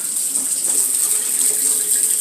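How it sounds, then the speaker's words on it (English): Water runs steadily through a homemade charcoal water filtering system set up for hurricane survival, a constant trickling hiss that carries on unbroken and fairly close. "Just that quick, the filtering system is working. The water is filtering itself."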